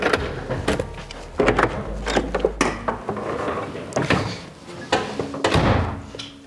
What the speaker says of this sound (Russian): Сейчас зацените, как дверь открывается.